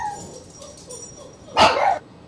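Dogs bark in a short, loud burst close by, a single sharp volley standing out over a quiet indoor background.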